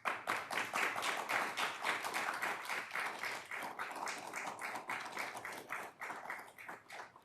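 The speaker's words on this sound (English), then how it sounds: "I love the COVID applause." An audience claps steadily throughout, dense applause that is loud and sustained and thins slightly near the end, with no voices over it.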